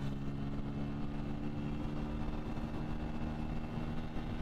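A Bajaj Pulsar N160 motorcycle engine drones steadily and close, a constant loud hum with a low harmonic rumble and no clear pauses, as though held at speed in gear.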